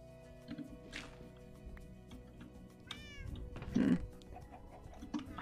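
A cat meows in a Minecraft-style multiplayer game, with a few short, separate mews spaced out over a quiet background and a louder sound near the end.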